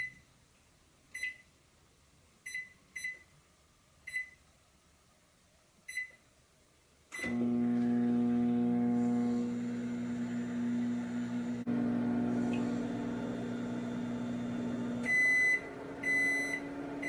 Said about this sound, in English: I put it in my microwave on a medium setting for 2 minutes